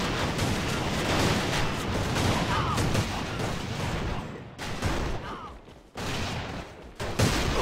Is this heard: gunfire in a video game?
yes